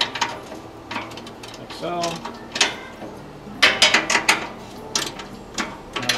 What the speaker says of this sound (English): Remember the two nuts to tighten the connection here.